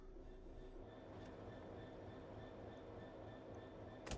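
A train passes in the video game Train Sim World 4 on a cargo line between Derby and Nottingham, a steady low rumble of rolling wagons with a faint wheel squeal and one brief clank near the end.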